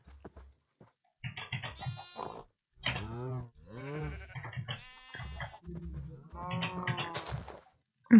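Sheep bleat in the Minecraft video game, a series of game bleats with short gaps, fairly loud and close, standing alone with no talk over them.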